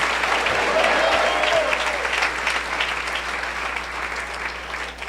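A church congregation gives loud applause to Jesus, a dense roar of clapping from many people that starts strong and eases slightly toward the end, with a low hum underneath.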